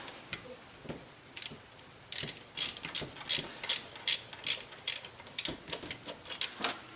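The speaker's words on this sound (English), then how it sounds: "So I'm just going to take these off, and found it's easy to get at it with a nice extension." A ratchet with an extension works on exhaust manifold bolts of a 1972 Corvette, giving bursts of quick metallic clicks in an uneven rhythm, close and fairly quiet, with no talk.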